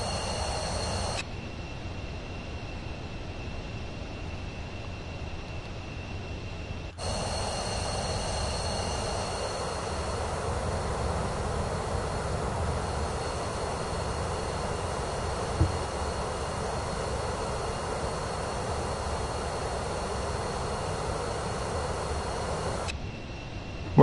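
Cessna CJ4 business jet engines in Microsoft Flight Simulator 2024, a steady, continuous roar with a whining tone that cuts out briefly and then resumes, holding level throughout.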